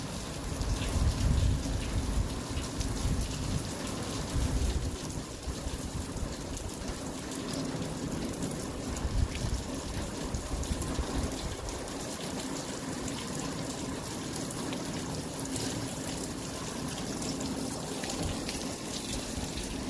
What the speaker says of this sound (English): pay attention to the rain, right? The intensity of it.